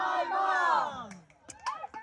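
A crowd at an ultimate frisbee game lets out a loud, rising collective cheer and whoop that swells then fades, followed by a few scattered shouts and claps.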